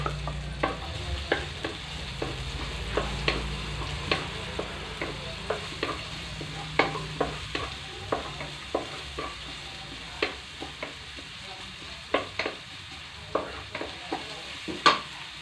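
Chopped onions sauté in a hot pan for lechon pares, giving a continuous low sizzle punctuated by frequent, rhythmic clicks and scrapes of a spatula stirring them, close and fairly loud.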